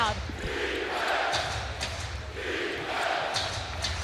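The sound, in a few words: basketball arena crowd at playoff game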